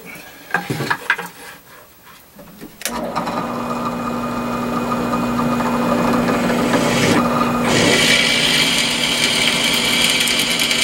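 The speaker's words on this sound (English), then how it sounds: "I'll go ahead and drill a pilot hole with the drill bit I've already got here." A power drill with a bit bores a pilot hole for an SO239 connector on a 70cm J-pole antenna, a loud steady whine starting abruptly after a few handling clicks and running continuously to the end.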